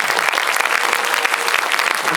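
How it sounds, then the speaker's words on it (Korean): Audience applause at a Korean film screening Q&A event for 'The Witch Part 2', a dense, steady wash of many hands clapping that stays loud and even for about two seconds with no voices. "그럼 박수 한번 보내주세요."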